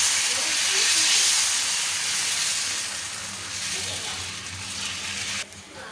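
Thin dosa batter made from idli rice, poha and chana dal sizzles on an oiled hot griddle, a loud continuous hiss that eases slightly before dropping abruptly near the end.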